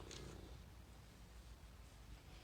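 A robotic toy cat purrs in a steady, low rumble that pulses continuously at close range, soft and even throughout.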